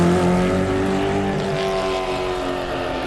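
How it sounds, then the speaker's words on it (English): Vehicle engines in the Mad Max game roar continuously, a loud, dense, steady drone with growling low tones and no talk over it. "the engines roar like the beasts you'd expect"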